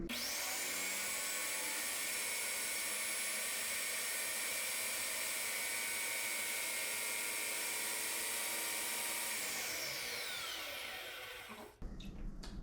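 Graco X5 airless paint sprayer pump running while priming, a steady loud whine with a high-pitched tone that holds for about eleven seconds, then winds down and cuts off near the end.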